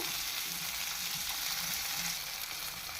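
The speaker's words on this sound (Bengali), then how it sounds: "তো আমি একটু ভালোভাবে এটা ভেজে তারপরে উঠিয়ে নিব" A spice paste for a winter new-potato dum fries in a pan, giving a loud, even sizzle that runs unbroken throughout with no talking.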